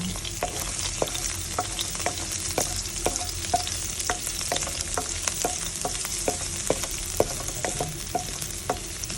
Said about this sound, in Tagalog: Yan, magigisa lang tayo ng bawang dyan.